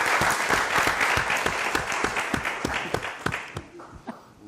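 An audience at a talk on nature and the future applauds a guest speaker, a full, dense wash of clapping with a few sharp individual claps standing out before it thins and fades.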